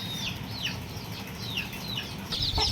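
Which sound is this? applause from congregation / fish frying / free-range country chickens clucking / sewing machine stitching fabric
free-range country chickens clucking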